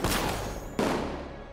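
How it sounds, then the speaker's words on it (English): Gunfire in Batman: Arkham Knight, a dense burst of shots that rolls on continuously, with a sharper blast near the midpoint. It sounds close and fairly loud, with no talking over it. "I guess we're shooting people now."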